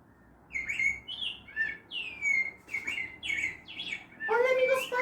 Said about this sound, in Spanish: Hola, amigos pájaros.